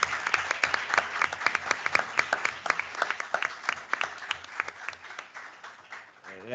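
Applause from an audience at a jury trial event, many distinct close claps that gradually thin out and fade, with some voices underneath.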